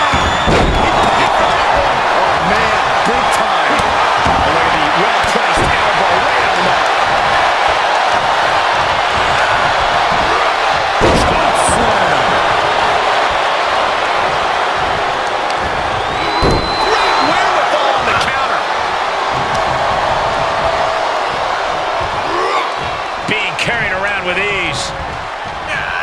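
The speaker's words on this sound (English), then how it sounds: "This crowd has been building, and they are at a fever pitch right now." A dense, loud arena crowd in the WWE 2K22 wrestling game roars continuously at fever pitch, with slams and thuds punching through and a commentator talking over it throughout.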